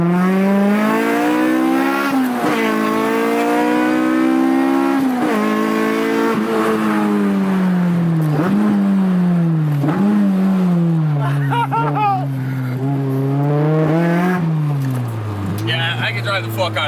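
A 300-horsepower K24-swapped Honda Civic with a modified exhaust is driven hard, its engine revving and climbing through gears in loud, sweeping pitch rises and drops, with brief shifts between pulls.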